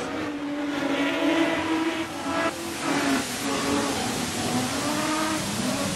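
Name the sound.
modified sedan race cars racing at Carina Speedway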